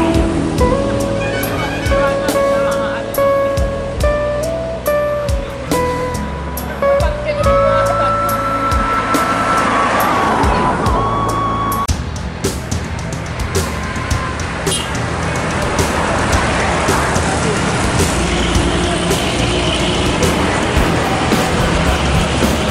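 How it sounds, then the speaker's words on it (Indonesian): Heavy road traffic rumbles loudly as an intercity bus engine roars and passes close by in Solok, Indonesia, with horn-like tones and wind noise throughout. "Memantau keberangkatan bus menuju perantauan Jakarta dan sekitarnya"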